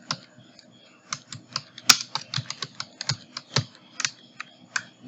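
Keys on a computer keyboard are typed in quick, uneven bursts of close, crisp clicks, with one louder tap standing out, while creating a first birthday invitation design in Photoshop.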